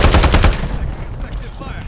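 Rapid automatic weapon fire from a Call of Duty Modern Warfare 3 multiplayer match rattles loudly for about half a second, then the shots stop and fade into a lingering echo and quieter background noise.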